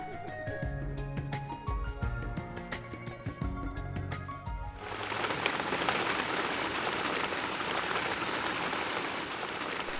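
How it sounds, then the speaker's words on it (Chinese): Continuous spring rain in Lingnan, southern China, a steady dense hiss of falling rain over the second half, with tonal music in the first half. "连绵的雨水将岭南送入了炎热而潮湿的夏季"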